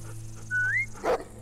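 Rosie, a dog in The Walking Dead video game, gives two short, close whimpering yips, a rising whine followed by a brief sharper yelp, over a low background hum.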